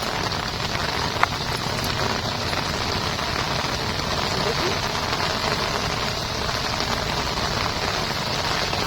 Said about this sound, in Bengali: এদিকে অঝরে বৃষ্টি পড়ছে আপনারা আওয়াজ শুনে বুঝতে পারছেন